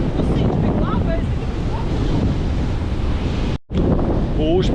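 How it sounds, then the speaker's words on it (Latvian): Strong wind buffeting the microphone over crashing sea waves on a beach near Klaipėda, a loud steady roar with brief faint voices and one sudden dropout. "Pūš pamatīgi, un viļņi arī pamatīgi."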